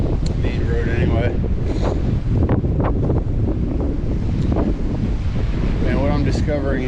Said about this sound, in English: So today, fortunately, is not a really windy day, but it's still windy.